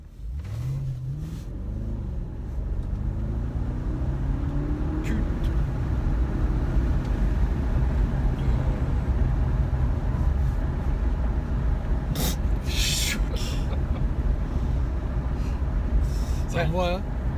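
A BMW car launches hard from a standing start, its engine note rising steadily, loud and close, with the driver talking over the roar.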